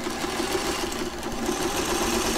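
A sewing machine stitches fabric pieces together with a steady, continuous mechanical whir and a fast rhythmic needle hum, close and even throughout with no talking.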